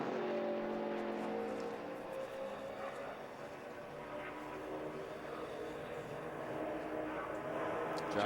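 A NASCAR truck roars around Homestead racetrack during 2010 Truck Series qualifying for the Ford 200, a steady engine drone that swells and fades slightly across the lap, heard from a distance without talk.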